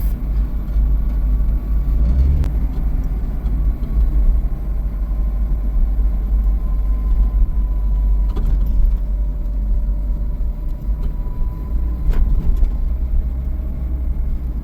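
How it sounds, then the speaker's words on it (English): An Acura RSX with a new intake and freshly swapped transmission fluid drives along, its engine and road rumble loud and steady throughout, with a few faint clunks that could be rough gear shifts. "You can hear it's shifting a little rough."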